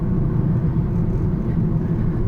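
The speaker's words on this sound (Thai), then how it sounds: "เสียงเครื่องไม่ได้ยินครับ ได้ยินแต่เสียงยาง" Steady low rumble of tires rolling on pavement from inside a moving Honda HR-V, a continuous dull roar with no engine whine standing out.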